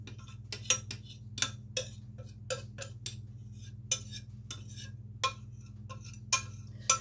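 A whisk stirs baked oatmeal batter in a bowl, making sharp, irregular clinks and ticks of metal against the bowl, fairly close and spaced out, over a low steady hum.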